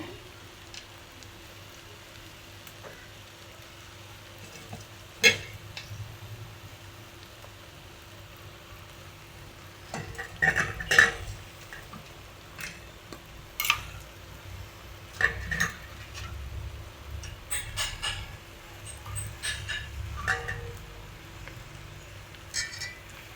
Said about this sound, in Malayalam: നല്ലതുപോലെ ഒന്ന് ഇളക്കി കൊടുക്കുക